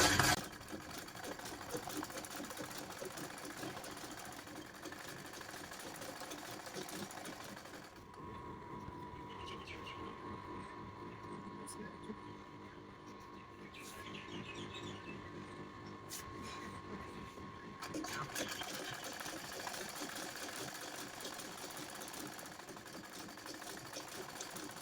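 A domestic sewing machine runs steadily while stitching the sleeve of a simple blouse, a close, continuous whirring hum that dips into a quieter stretch midway before picking up again, with a voice talking over it throughout.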